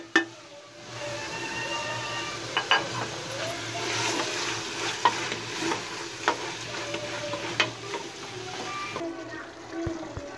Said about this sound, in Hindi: कीमे को हमने भून लिया है माशाल्लाह मसाले के साथ।